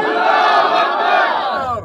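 A large outdoor crowd at a political rally shouts back a religious slogan in unison, a loud, sustained roar of many voices lasting nearly two seconds with no single speaker.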